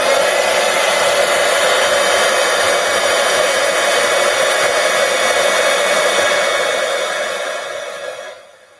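Heat tool blowing hot air over embossing powder on a handmade Hanukkah card, a steady loud whooshing roar held for about eight seconds before it fades as the tool switches off.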